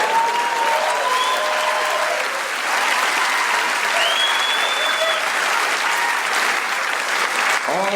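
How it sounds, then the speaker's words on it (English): Audience applause and cheering fill a stand-up comedy venue after a joke about parenting, a steady, loud wash of clapping from a crowd that carries on throughout. "it gets a laugh, and then the laugh turns into clapter"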